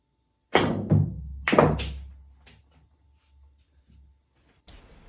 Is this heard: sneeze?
no